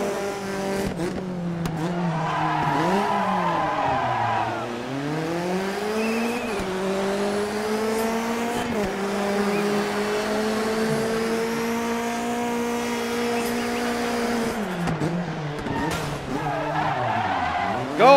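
A Mitsubishi Evo rally car skidding offroad in Dirt 3 on the Osiris Offroad Rush course: engine revs rise and fall through gear changes, with tire scrub and skidding under a loud, continuous roar.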